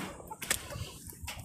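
Chickens cluck in a coop, a few short calls scattered over a busy, close background of rustling and movement.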